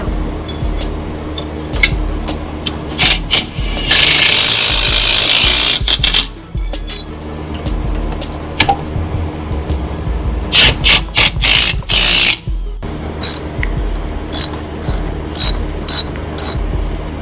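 Ratchet tightening the lower ball joint nut on a Hardrace front lower control arm fitted to a four-door Acura Integra, with rapid close clicking bursts, one long continuous run and several shorter spins with brief pauses between.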